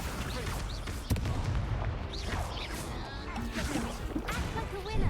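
Accio spell effect in a wizard video game, bursts of whooshing magical zaps and sharp cracks over a dense layer of game music and effects, loud and busy throughout.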